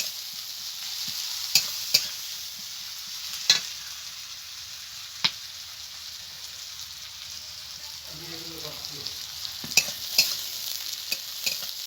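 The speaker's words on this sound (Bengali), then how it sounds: "পেঁয়াজটাকে আমি একটু লাল লাল করে ভেজে নেবো" Chopped onions fry in a pan with a steady, even sizzle, punctuated by a few sharp clicks and stirs of a utensil against the pan; no one speaks.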